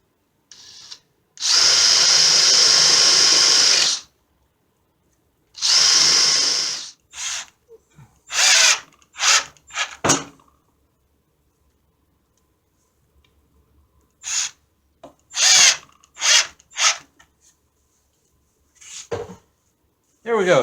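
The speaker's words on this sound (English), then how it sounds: "I'm going to take my hinge bit in my cordless. I'm just going to get myself starter hole in each one, and then I'm going to sink screws." A cordless drill fitted with a hinge bit bores starter holes for hinges on a wooden pizza dough press, then drives screws: two long whirring runs followed by many short bursts, loud and close, with silent gaps.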